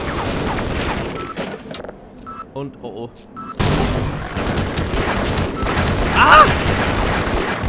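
In the video game Half-Life, automated gun turrets fire and explosions boom: dense, continuous bursts of gunfire and blasts that drop briefly, then return loud and sustained, with a man's startled exclamations over them.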